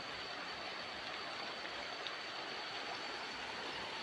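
The Lawai Baringin river flows in a steady, continuous rushing wash, close and unbroken, with no voices.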